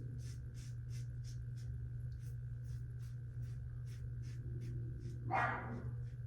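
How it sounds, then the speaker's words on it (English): A dog barking from the next room, a steady run of a dozen or so short muffled barks at an even pace, somewhat distant over a constant low hum. "I hate having him bark in the background of these videos"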